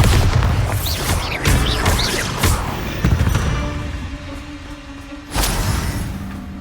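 A Bombarda spell explosion in the wizarding game Hogwarts Legacy, with several loud, booming blasts and crashes in quick succession, then a rumbling tail and one more heavy impact near the end.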